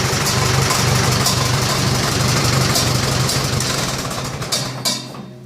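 A restored tractor engine with manual steering and a PTO idles steadily and loudly up close, its low rumble holding even before easing slightly and sputtering near the end.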